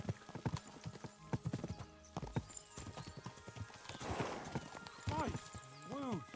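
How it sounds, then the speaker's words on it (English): Horses' hooves clip-clop in a brisk, steady rhythm in a medieval setting from Kingdom Come: Deliverance II, joined by a couple of whinnies near the end, with voices talking over the gallop. "We should spur the horses on."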